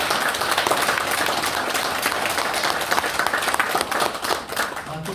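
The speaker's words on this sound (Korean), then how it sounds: "뜨겁게 박수 좀 부탁드립니다" An audience at a Korean talk event claps steadily, a dense, even wash of applause from many hands that carries on for several seconds.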